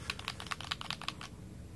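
Quick run of crisp clicks from the buttons of a Chinese handheld game console, about eight sharp presses in a loose rhythm, close and fairly quiet, then silence.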